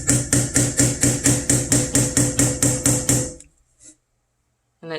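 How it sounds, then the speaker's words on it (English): A hammer drives a nail into a tin square to punch out a design, striking about a dozen sharp, evenly spaced metallic taps that stop abruptly, followed by a brief faint knock and silence. "you take your hammer and your nail, and you just go right on your design"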